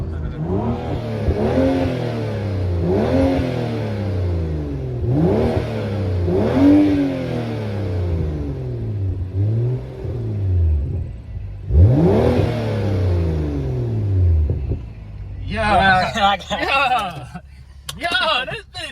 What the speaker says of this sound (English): Let me rev it up real quick.